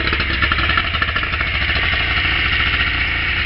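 An outboard boat engine runs steadily up close, a loud, even mid-pitched drone with a fast regular pulse and no voices.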